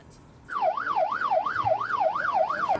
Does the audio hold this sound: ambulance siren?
yes